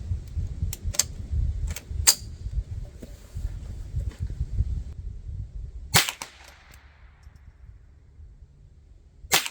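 Rifle firing Winchester Super X .22 rounds, likely a Ruger 10/22 or Marlin Model 60, a handful of sharp sudden cracks spaced irregularly over a low rumbling background, one loud report followed by quiet.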